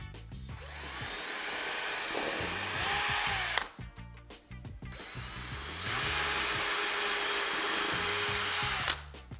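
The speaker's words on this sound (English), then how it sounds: "hold it up to where you've marked, make sure that the box lies flat" A power drill whirs loudly in two long bursts, grinding as it bores into a wall, with a brief pause between runs.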